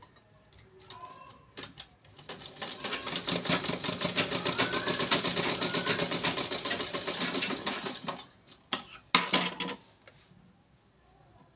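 A sewing machine stitches a seam on a blouse cup, a fast close mechanical rattle running steadily for several seconds, then stopping, followed by a short final burst of stitches.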